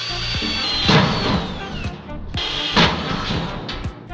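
A power drill whines up close, boring holes into a stainless steel bin in two bursts with a brief pause between, the motor pitch dropping as it bites.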